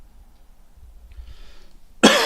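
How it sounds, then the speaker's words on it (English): A single sharp cough bursts out near the end, following a couple of seconds of quiet room noise. "I've had a cough for a while now."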